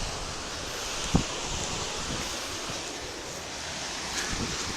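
Whitewater rapids at Snap Falls in Muddy Creek Gorge rush in a steady broadband roar, with wind buffeting and one brief knock.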